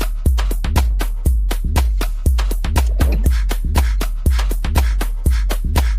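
House music plays with a steady four-on-the-floor kick thumping in even pulses, crisp hi-hats between beats, loud and upfront with no voices.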